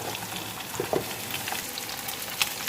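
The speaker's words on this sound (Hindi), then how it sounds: "अभी मैं चिकन डालता हूँ।" Chicken hits onions frying to golden brown in a pan for Peshawari chicken pulao. A quiet, steady sizzle runs throughout, with a few sharper crackles and pops.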